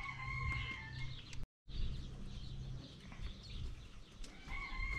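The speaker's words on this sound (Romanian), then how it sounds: "Ăsta e cocoșul de curte al lui Dănuț." A farmyard rooster crows loudly nearby, a long drawn-out call, followed by more crowing and clucking with a brief gap of silence in between.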